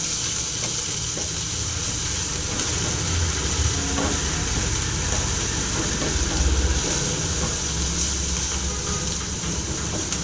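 Greens and coriander frying in a pan, a steady, close sizzle with hissing steam running evenly throughout, with no voices over it.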